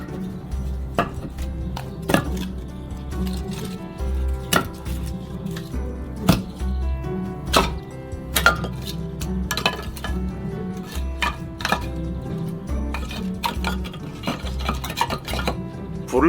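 Firewood is loaded into a pizza oven in a series of sharp, hard knocks and clatters as pieces strike each other and the oven floor, close by with a low rumble underneath.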